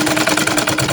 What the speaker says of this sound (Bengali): এখানে আমি আরেকটু সেলাই দিয়ে নিচ্ছি।